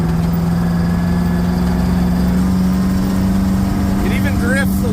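A Detroit Diesel engine runs warm at a steady low throb, loud and close with a constant deep drone throughout, while a person talks over it near the end.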